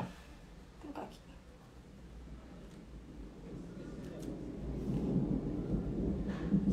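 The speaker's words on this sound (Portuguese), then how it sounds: "vocês estão escutando trovão aí?" Thunder rumbles in the distance during a storm, a low sustained roll that builds gradually and swells louder toward the end, heard indoors in a kitchen.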